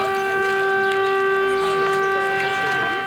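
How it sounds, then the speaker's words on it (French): A civil defense siren wails steadily and loudly as a rally signal in the French town of Mouzeuil-Saint-Martin, its sustained tone holding for the whole stretch with no voices over it. "Une sirène à Mouzeuil-Saint-Martin comme dans bon nombre de communes de France"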